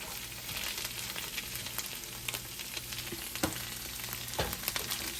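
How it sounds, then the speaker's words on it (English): Rice frying on a hibachi pan, with a steady sizzle and occasional scraping from a utensil as it is stirred, under a low hum, fairly faint and with no talking. "Just gotta keep stirring this nice rice up."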